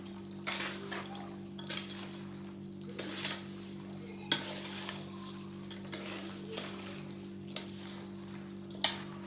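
A utensil scrapes and clinks against a pan while capia peppers are stirred over a low sizzle, in irregular strokes beneath a steady hum.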